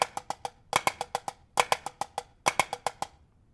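Snare drum rudiment cheese fives, flams combined with diddles, played as four close groups of sharp strokes with quick double bounces and grace notes, loud and alone.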